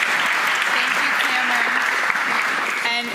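Audience applause at a youth summit in Miami, a loud sustained burst of clapping with voices speaking faintly underneath.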